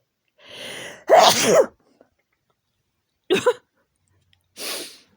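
A loud sneeze with a sharp burst, followed moments later by two shorter sneezy exhalations, close to the listener with no talking.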